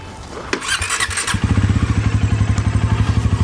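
A Bajaj Pulsar NS350Z motorcycle engine cranks with a short squeal and thump, then catches and settles into a steady, close, rhythmic idle.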